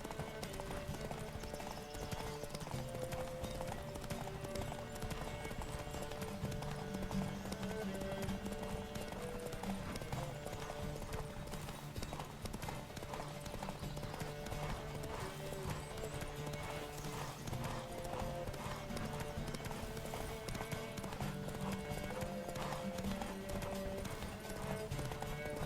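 Horse hooves clip-clop in a steady rapid galloping rhythm in The Witcher 3 video game, a continuous beat under dense game music and ambience, fairly faint.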